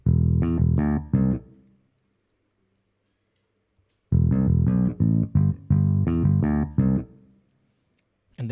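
An electronic bass line from a music track plays in short rhythmic phrases of punchy, pitched notes, separated by a few seconds of silence.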